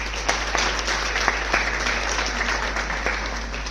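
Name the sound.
audience applause for the organizers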